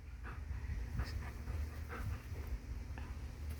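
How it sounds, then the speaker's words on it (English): A small dog pants fast and rhythmically right up close, with quick, breathy puffs and some light snuffling, over a steady low background rumble. "This is my purse dog, Andy."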